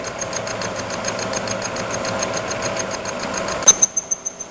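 A milling machine cutter travels along a 1000 mm metal plate, giving a steady mechanical hum with a fast rhythmic whir and knocking pulse, close and continuous, ending in a few sharper clunks.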